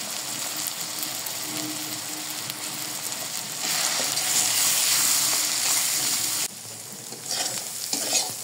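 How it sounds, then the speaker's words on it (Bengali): Spice paste of cumin, dried chili, turmeric and salt frying in oil in a pan for a koi fish curry, a loud steady sizzle with scraping stirs that grows louder midway, no talk. "মশলা ভালো করে কষিয়ে নিয়েছি, দেখুন তেল উঠে গেছে উপরে।"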